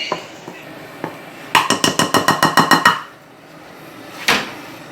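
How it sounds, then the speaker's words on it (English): A metal spoon clinks rapidly against a pot, about a dozen quick taps in a burst, with a few scattered knocks before and a single clank after, close and fairly loud. "Then we're just going to stir that in."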